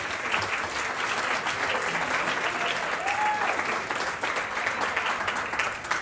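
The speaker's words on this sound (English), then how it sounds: "A round of applause for Neil Haldane and Christopher Haldane." A wedding audience applauds after the speeches, a steady, dense wash of clapping that carries on evenly for several seconds without talk.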